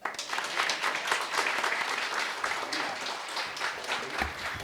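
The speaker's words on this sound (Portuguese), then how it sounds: "Uma salva de palmas." An audience at a formal commemorative plaque ceremony breaks into sustained applause, many hands clapping in a dense, even roar that holds steadily throughout, with no speech over it.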